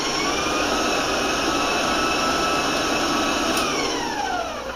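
A stand mixer with a paddle attachment whirs steadily while beating ginger muffin batter until smooth, a loud, continuous motor drone with no talking over it.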